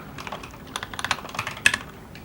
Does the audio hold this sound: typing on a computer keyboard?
yes